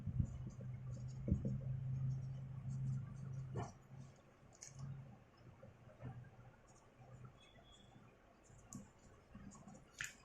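Pen or pencil writing notes during a class lesson, faint scratchy strokes and a few soft clicks against a low background hum, with no talking over it.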